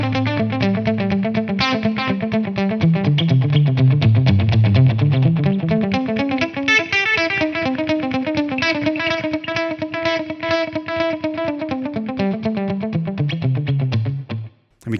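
Electric guitar through a delay effect on a guitar modeler, set to a dotted-eighth repeat with a high mix, playing a steady melodic line whose notes echo and stack into a continuous shimmering wash, loud and without talk.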